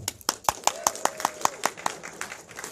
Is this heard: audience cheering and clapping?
yes